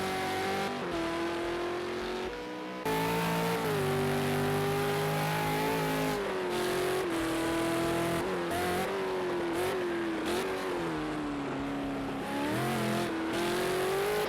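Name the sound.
Supercars racing at Laguna Seca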